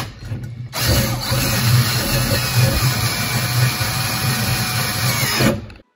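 A power drill bores a 14-inch oil feed passage through a Buick V6 engine block via the timing cover, a steady loud whine that starts abruptly and runs continuously for several seconds before cutting off.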